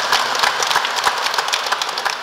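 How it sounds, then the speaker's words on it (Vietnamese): A church congregation applauds to welcome a priest, dense steady clapping from many hands, close and even throughout with no voices over it. "Quý bạn chị em cho cha chào vỗ tay."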